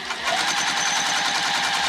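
A sewing machine topstitches a folded seam on a Hendrix bag, a loud, close, fast and even mechanical chatter that runs unbroken throughout.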